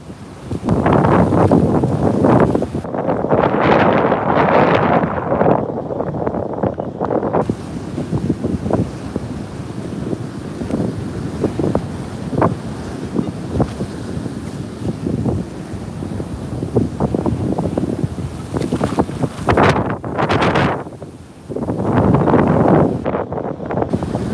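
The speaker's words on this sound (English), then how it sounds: "I am not scared of the wind!" Strong storm wind buffets the microphone while someone metal detects outdoors in New York City, a loud, rough roar that surges and eases in gusts over the whole stretch.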